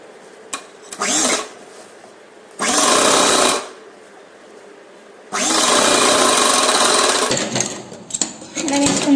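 A sewing machine stitches small folds at the waist of a lehenga made from an old saree. It runs in two or three loud bursts of a few seconds each, with short pauses between them.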